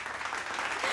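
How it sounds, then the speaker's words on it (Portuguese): Applause greeting a mother as she is introduced, a steady wash of clapping from a small group, close and fairly even throughout with no voices. "Palmas pra ela."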